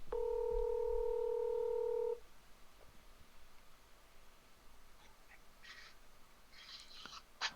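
A single steady telephone tone sounds for about two seconds, then gives way to a quiet background with a few faint chirps.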